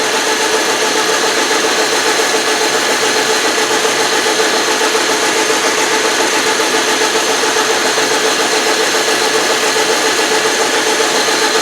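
A Hemingway kit spherical ball turner cutter works on a lathe, giving a steady, loud mechanical whir with a constant hum and no break for the whole stretch.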